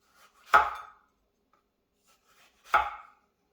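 A knife slices lengthwise through a tomato on a cutting board in two separate crisp strokes about two seconds apart, close and clear against near silence.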